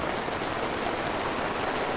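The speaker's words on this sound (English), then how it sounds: "Normally I like the sound of rain and thunder" Heavy rain during a thunderstorm pours steadily onto a campsite in the woods of Algonquin Park, a dense, even hiss of drops with no voices.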